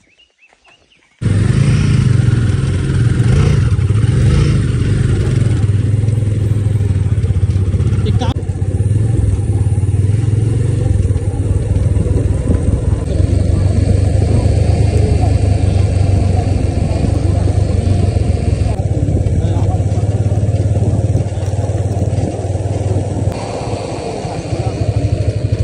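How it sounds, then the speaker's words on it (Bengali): Two motorbikes set off together on an off-road adventure ride, their engines starting after a brief quiet moment and then droning loud and steady close by, rising and falling with throttle changes throughout. "চলুন, এই দুটো বাইক নিয়ে আজকে বেরোচ্ছি।"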